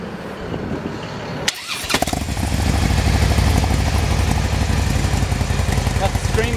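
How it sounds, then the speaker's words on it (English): A 2007 Harley-Davidson Screamin Eagle Ultra Classic motorcycle cranks after a short quiet moment, then fires up into a deep, loud, loping idle that continues steadily to the end. "let's fire it up and see what it sounds like"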